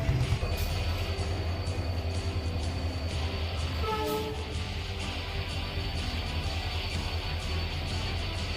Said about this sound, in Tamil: அந்த ட்ரெயின் தான் இப்போ இந்த டயத்துக்கு வந்துருக்குது